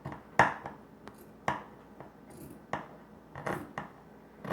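Scissors snip through a cotton t-shirt, a series of crisp, irregular cuts sounding close and fairly quiet, each a short sharp crunch with pauses between.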